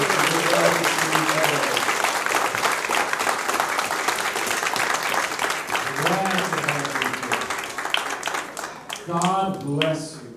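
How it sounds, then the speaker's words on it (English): A church congregation claps hands in welcome for visitors during a Sunday service, a dense, steady wash of applause running throughout, with voices speaking and calling out over it, one rising near the end. "Let's give all of our visitors a good hand clap of welcome."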